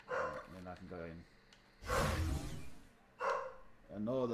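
Indoor dog barking in two short, loud bursts, with someone talking before, between and after them.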